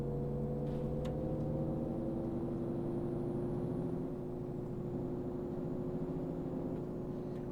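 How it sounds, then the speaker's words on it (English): An IVECO low entry city bus engine idles steadily in the OMSI 2 bus simulator, a low, even rumble with a constant hum that stays unchanged throughout, with no talking. "Listen to that purr of the engine, that's brilliant."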